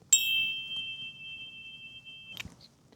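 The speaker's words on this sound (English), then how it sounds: "This loud ringing can happen whenever you snag the gun on a piece of gear, put the gun down, or even just rack the gun in normal operations." An open-tine flash hider on an AR-15 rings like a tuning fork after a sharp metallic strike, a clear pure tone sustaining for over two seconds before a second knock cuts it off.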